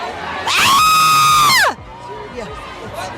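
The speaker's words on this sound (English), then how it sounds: "Can I hear your best liberal scream?" An audience at a political talk event lets out a loud, sustained collective scream, with whoops and shouts for just over a second, then cuts off abruptly into a low murmur of crowd noise.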